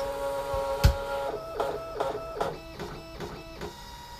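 A DesignNCut cutting machine calibrates on its mat, starting with a sharp thunk. A run of rhythmic motor whirs and clicks follows, about six even strokes, close and fairly quiet.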